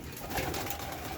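Racer pigeons in a loft give a soft, brief coo, close by and quiet against a faint ambient background.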